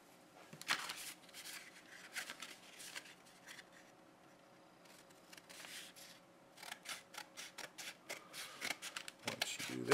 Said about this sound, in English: So I'm just going to use a pair of scissors.